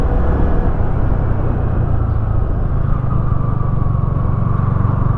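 A motorcycle climbs the hairpin bends of the Kolli Hills mountain road, its engine a loud, steady drone mixed with wind rush that holds for several seconds with no voices.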